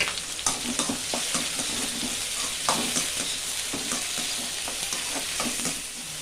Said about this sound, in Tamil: நல்லா வதங்கட்டும் சிக்கன் போடலாம்